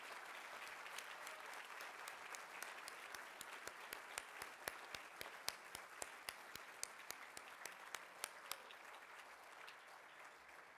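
Sustained audience applause at an admiral's tribute ceremony: dense, steady clapping from a sizable crowd for about eleven seconds, with sharper individual claps standing out near the front.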